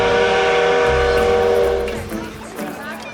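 Steam train whistle on Mount Washington, a loud sustained tonal blast that holds steady and then fades over a few seconds into outdoor background noise.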